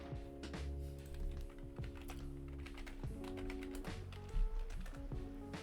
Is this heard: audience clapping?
no